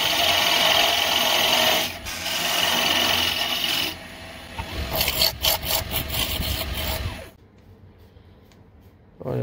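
A spindle roughing gouge cuts a spinning wood blank on a lathe, making a steady, rough scraping whir that shifts in tone partway through, breaks into choppier scrapes, then cuts off and leaves near silence.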